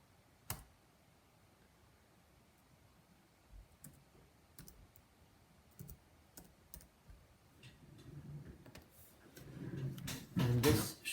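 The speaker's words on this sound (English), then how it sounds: "I hate typing in product keys." Faint, sparse key clicks from a computer keyboard sound as a product key is typed during an HP Pavilion hard drive upgrade. Louder handling noises follow near the end.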